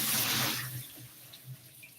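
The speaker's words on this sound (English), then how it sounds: "So we now rinse it out. This is the second time." Warm tap water runs while rice is rinsed in a kitchen, a close rushing splash that fades quickly into a few soft sloshes and drips.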